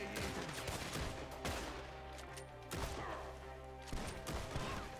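Gunfire in the video game Red Dead Redemption 2 during a ranch shootout, with several sharp loud shots spaced about a second apart over a dense, continuous battle din.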